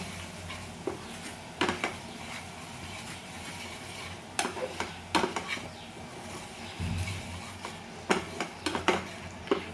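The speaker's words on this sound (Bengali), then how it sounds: "এইটা আগে তেলে ভালো করে মিক্স করে নেব।" Chili powder stirred into hot oil in a pan for crab masala, irregular clinks and scrapes of a utensil against the pan over a low background, close by and without speech.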